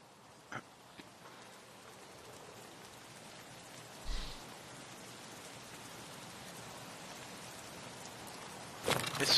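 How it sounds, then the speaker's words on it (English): Rain falls in a video game as a faint, even hiss, broken by a few brief clicks and a louder burst near the end, with no talking. "It's raining."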